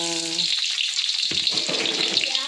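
Garlic sizzles in oil in a hot pan for fried mee, a steady, close crackling fry with a low clunk of stirring partway through.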